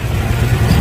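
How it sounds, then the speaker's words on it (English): Exhaust of an SS clone muscle car rumbling steadily at idle, a deep continuous low drone heard close and fairly loud with no talk over it. "Awesome sounding exhaust on it."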